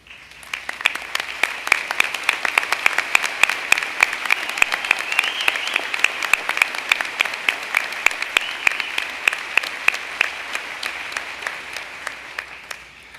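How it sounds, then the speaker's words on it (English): An audience at a 2012 summer university commencement applauds graduating honors students, a sustained dense round of clapping with crisp individual claps standing out, steady throughout and tapering slightly at the very end. "join me in applauding these outstanding students"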